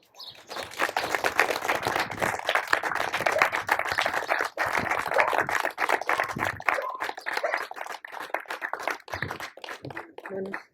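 Audience applause at a human rights event in Colombia, a sustained burst of dense clapping from a crowd lasting around ten seconds, steady and fairly loud before thinning out near the end.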